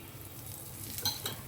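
Gujarati thepla flatbread fries in a generous amount of oil on a pan, a soft, steady sizzle with a few small crackles near the end, close but fairly quiet and without any talk.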